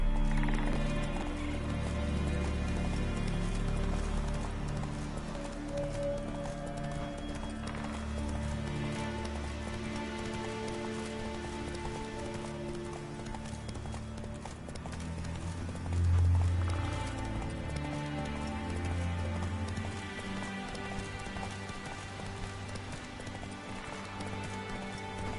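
Roach, the horse in The Witcher 3, runs at a steady gallop with continuous hoof clip-clops. Snorts and a whinny come through near the middle, over a low layer of game music and ambience.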